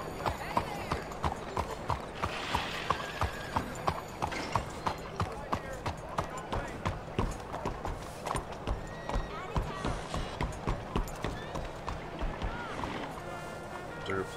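Horse hooves clip-clop steadily in Red Dead Redemption 2 on a late-night street in Saint Denis, a regular rhythmic trot at moderate volume over soft city ambience.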